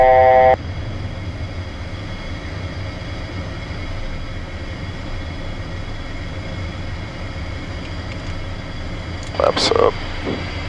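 Steady loud engine and airflow roar inside the cockpit of a single-pilot jet during takeoff, with a brief tone at the start and a few short cockpit beeps near the end.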